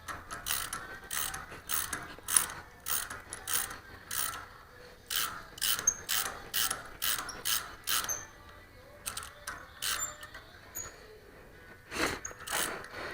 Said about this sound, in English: so I figured I'd chase the threads first before I put everything back together.